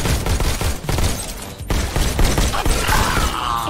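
Rapid volleys of gunfire from the Robo Recall VR shooter game, dense overlapping shots running throughout with a brief lull midway, loud and close, no talking.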